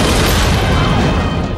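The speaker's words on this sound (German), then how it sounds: "Die Explosion erschüttert die ganze Stadt." A massive bomb blast in a city, the attack that killed Rafic Hariri in Lebanon, roars as a loud, dense, sustained rumble that fills the whole moment with no talk.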